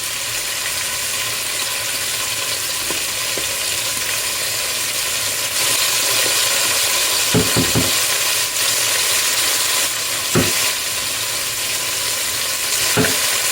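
Chicken and chickpeas fry in a skillet with garlic, cumin and paprika, giving a steady loud sizzle with a few short scraping stirs and clanks along the way.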